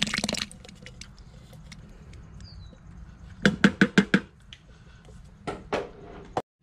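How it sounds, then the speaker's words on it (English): A can of cream-style sweet corn is poured into carp pack bait, giving quiet wet glops and a quick run of thick squelching plops midway, then a few more close splats before the pour ends. "Pour that whole can in there."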